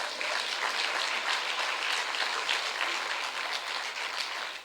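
A church congregation applauds steadily during a worship service, a dense wash of many hands clapping together that stays loud and even throughout, with no voices.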